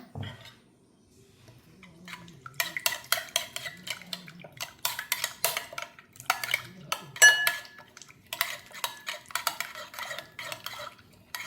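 Ingredients are stirred together in a bowl for bread toast, with a utensil scraping and clinking against the bowl in quick, irregular bursts after a quiet start, close up, with a few faint murmurs underneath.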